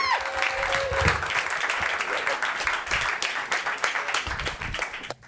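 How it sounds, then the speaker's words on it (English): A comedy club audience applauds loudly and steadily, a dense wash of many hands clapping with a few whoops, fading sharply at the very end. "So start clapping. Put your hands together."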